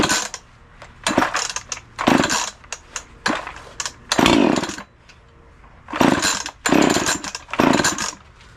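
A small ECHO gas engine with the choke on repeatedly revs up and dies back to a rough idle. Loud, close bursts of about a second each recur through the stretch while the carburetor is run dry.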